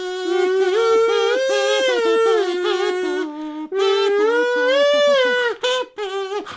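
A comb wrapped in paper is played by humming against the lips, giving a loud, buzzy kazoo-like melody of sustained, gliding notes with a short pause partway through and choppier notes at the end.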